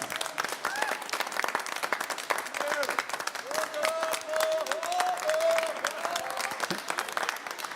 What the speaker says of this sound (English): So would you like to stand and applaud the audience?